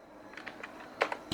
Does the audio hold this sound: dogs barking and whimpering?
no